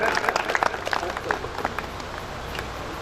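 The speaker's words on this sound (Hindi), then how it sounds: "जोरदार तालियां की गड़गड़ाहट से उनका अभिनंदन और उनका स्वागत।" An audience claps with scattered sharp claps standing out, with voices in the background, at a mushaira poetry gathering.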